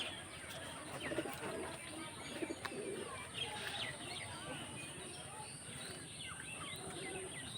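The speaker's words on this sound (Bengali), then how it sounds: "সব ঘূর্ণি পায়রা তো, খেলের পায়রা।" Tumbler pigeons kept for flying coo softly at a distance, with occasional chirps and faint background voices over a quiet outdoor hum.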